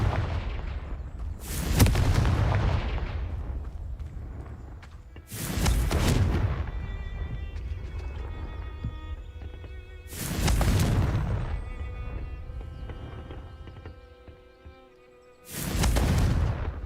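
Confringo spell explosions in Hogwarts Legacy: four heavy, booming blasts spaced a few seconds apart, each a sharp burst trailing off into a rumbling decay, with quieter ambient tones between.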